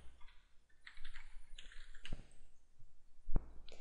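Keys clatter on a computer keyboard as a search is typed into a library catalogue, in a quick uneven run of taps and clicks, close and fairly quiet, with no talking.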